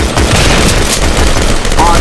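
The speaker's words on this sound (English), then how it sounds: "The shots are so loud." Gunfire in the multiplayer shooter Double Action, loud rapid shots forming a continuous barrage, with speech faintly mixed in.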